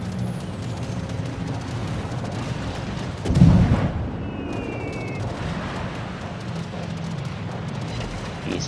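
German high-explosive shells strike a warship in a naval combat game, a single heavy booming impact standing out mid-clip over a steady engine rumble.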